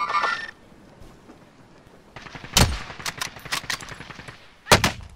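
Sharp gunshots ring out in Call of Duty Warzone, set in 1984 Verdansk: a few spaced single cracks followed by a quick burst and a final loud shot, against quiet game ambience.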